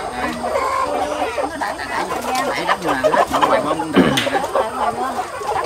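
Free-range chickens on a farm cluck and murmur close by in a busy, uneven chorus, with a person speaking through much of it.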